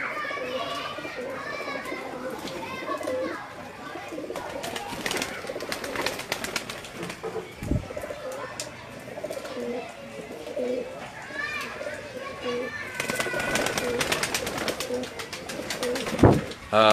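Pigeons coo repeatedly in the background while children shout and play nearby, with voices talking throughout.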